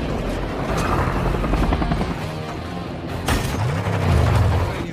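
A helicopter's rotor chops steadily at close range, with a sharp bang partway through and mechanical rumbling beneath.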